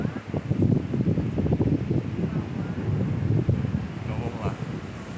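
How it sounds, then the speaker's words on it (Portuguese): Strong wind buffets the microphone at a beach, a continuous low roaring rush with gusts, while a person talks over it. "tá ventando bastante."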